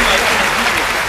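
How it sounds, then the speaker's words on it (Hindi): Brief burst of sustained audience clapping at a Hindi comic poetry gathering, loud and dense, with a voice faintly over the crowd. "मुझे बेबात पे एक बार तालियां बजाकर बता दीजिए कि आप सुन रहे हैं"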